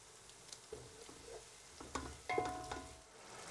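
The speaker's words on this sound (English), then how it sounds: "The onions are frying nicely in the pan." Onions fry in a pan for a chicken masala curry, giving a quiet crackling sizzle with soft stirring scrapes and a few brief clatters of utensils, heard alone without talk.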